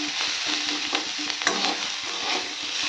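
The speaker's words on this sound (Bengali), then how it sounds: "পেঁয়াজটা ভালো করে ভেজে নেব" Onions with a few green chillies frying and being stirred in a pan, a steady close sizzle broken by repeated scraping stirs, with no voices.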